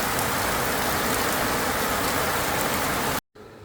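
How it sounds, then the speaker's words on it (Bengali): Heavy rain comes down in a loud, dense, continuous roar of drops on surfaces, then cuts off abruptly near the end. "ও ভাই কি বৃষ্টি দেখেন"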